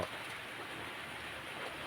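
Rain falls steadily outside a house, a soft continuous hiss of drops with no talking over it.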